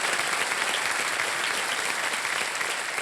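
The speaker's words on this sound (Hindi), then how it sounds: "तालियों के साथ हम चाहते हैं उनका स्वागत हो जाए।" Studio audience on the KBC quiz show set welcoming guests with continuous, full applause, many hands clapping steadily at an even level for the whole stretch, with no voices over it.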